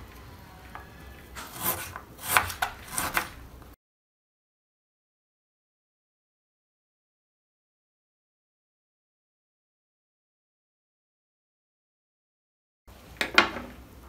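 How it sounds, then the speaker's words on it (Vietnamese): Fresh ginger chopped finely with a knife, likely on a cutting board: a few quick bursts of close cutting strokes, then a long stretch of silence, and one more short burst of chopping at the end, with no talk. "Các bạn cũng thái nhỏ."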